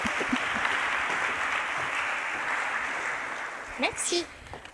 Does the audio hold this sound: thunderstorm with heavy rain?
no